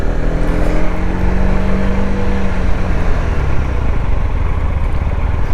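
A Honda CB125R motorcycle rides in first gear with a steady, loud engine drone and falling tones as it slows, braking to a stop, no talk heard.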